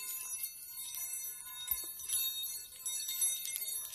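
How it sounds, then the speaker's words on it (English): Baoding balls with chimes inside rolling slowly in the hand, giving soft, continuous, bell-like tinkling with a sustained metallic shimmer and faint clicks, close and steady with no voices. "This is chiming ball. You can hear the lovely chiming sound."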